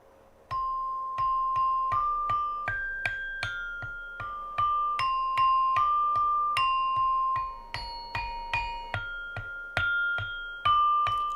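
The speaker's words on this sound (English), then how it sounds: "So that gong tells everyone that it's the end of the song or the cycle completes." Javanese gamelan ensemble playing in the city, metallophones such as saron struck in a steady rhythm of ringing tones, with a gong marking the end of the cycle; loud, near and alone without talk.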